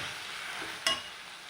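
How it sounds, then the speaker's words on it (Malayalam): Paneer stirred into curry in a hot pan gives a soft, continuous sizzle, with one sharp clink of a spoon against the pan midway, close and fairly quiet. "200 ഗ്രാം പനീർ ഇട്ട് കൊടുത്തിട്ട് മെല്ലെ ഒന്ന് മിക്സ് ചെയ്തിട്ട് കൊടുക്കാം"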